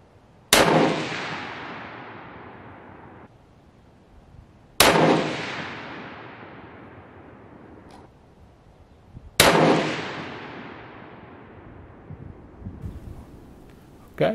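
Three loud, sharp gunshots from a bolt-action rifle in an aluminum chassis, spaced about four to five seconds apart, each cracking out and then ringing into a long decaying echo across an open range.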